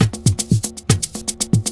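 A percussion loop for a 3-step beat made in FL Studio, with a fast syncopated pattern of punchy low drum hits, crisp clicks and short tonal knocks repeating tightly and loudly without any voice.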